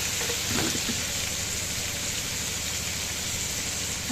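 Tomatoes sauté in a pan for masale bhat, giving a loud, steady, close sizzle with a brief stirring scrape near the start.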